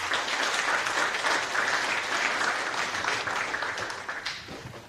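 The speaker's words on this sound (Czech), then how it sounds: "Takže potlesk." An audience at a national business competition final applauds steadily, a dense wash of clapping that holds for several seconds before fading toward the end.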